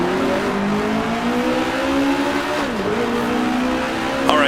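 A race car engine in a racing video game screams at high revs, its steady whine dipping sharply once as it shifts up a gear, then climbing again. The sound is loud and continuous, with no talking.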